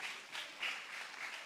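Applause for a children's ministry at a church education-week program, a soft, brief patter of clapping from the congregation, faint and heard alone.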